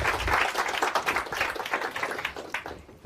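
A live audience applauds a volunteer called up to the stage at a mentalism show, with steady, dense clapping from many hands that eases off slightly at the end.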